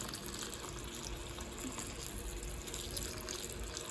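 Water pours onto a bonsai tree on a balcony with a soft, steady trickle and splash that stays faint and even, with some outdoor background noise.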